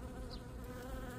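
Honeybees buzz around blooming crocus flowers in a garden, a steady, close, continuous drone with no pauses.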